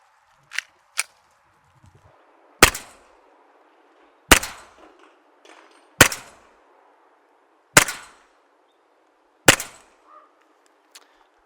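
An EMG Archon Type B gas blowback airsoft pistol fires on green gas, six sharp, loud cracks spaced at roughly even intervals, each with a short mechanical rattle after, near and clear against quiet.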